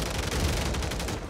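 Sustained burst of enemy gunfire in a video game, a loud, dense rattle of rapid shots filling the whole moment with no pause.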